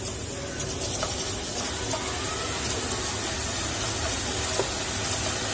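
Sweet boondi batter frying in hot oil, giving a steady, close sizzle and hiss that runs unbroken throughout, with no talking.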